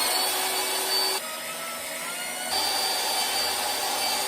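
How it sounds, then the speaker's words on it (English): Three-inch screws being driven into 2x4 lumber with a power driver, a steady loud whirring drone that drops briefly in pitch and level midway before resuming, with no talk. "We're going to put the screws in. I'm using 3-inch screws."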